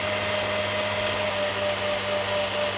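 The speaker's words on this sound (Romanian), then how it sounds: "albușul îl punem cu un praf de sare la bătut spumă" Continuous loud whirring of an electric mixer beating egg whites with a pinch of salt into foam, a steady motor drone close by with no talk.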